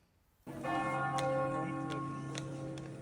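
A church bell strikes once after a brief quiet, in a quiet inner courtyard with birdsong, then its bright, humming tone rings on and lingers steadily.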